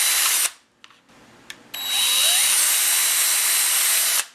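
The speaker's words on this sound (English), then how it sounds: "I'm just going to drill me a couple of holes about midway vertical" A power drill bores a couple of holes in the side of a shop vacuum: a short burst and a few brief taps, then a long, loud, steady whine that rises slightly in pitch before cutting off.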